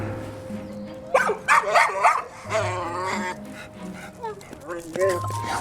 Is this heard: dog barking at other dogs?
yes